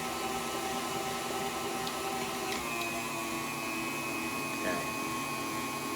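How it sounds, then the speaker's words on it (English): An electric mixer drones steadily with a whirring, slightly whining motor tone while whipping sweet potato pie filling, its pitch shifting a little midway; a person briefly says a word over it. "we just whip this. Take your spatula and go around your mixer"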